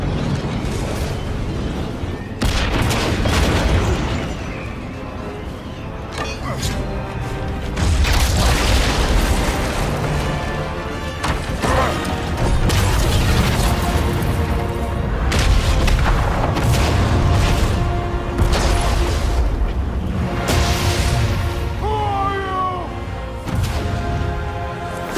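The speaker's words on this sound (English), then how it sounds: "The bomb!" A bomb explosion in God of War Ragnarök, a loud sustained rumbling boom with dense low roar and crackling debris continuing throughout, layered with game sound.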